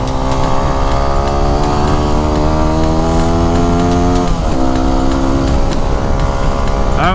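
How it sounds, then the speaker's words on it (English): A Yamaha WR250R dual-sport motorcycle rides along Mines Road in California's Diablo Range, its engine droning loud and close with steady harmonic tones that dip briefly as the revs shift midway, then hold steady again. "Beautiful day for a motorcycle ride."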